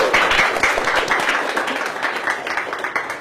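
Audience clapping during an interview event with a live crowd, a dense steady patter of many hands lasting the whole stretch, fairly close and loud.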